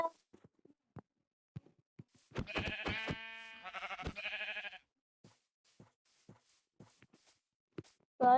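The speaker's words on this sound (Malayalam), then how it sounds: "ഷീപ്പ് കിട്ടി." A sheep bleats twice in quick succession, clear and fairly close, with scattered faint knocks and small sounds before and after.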